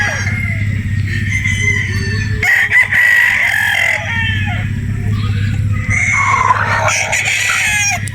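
Gamefowl broodstag roosters crow repeatedly, loud and near, over a steady low engine-like hum.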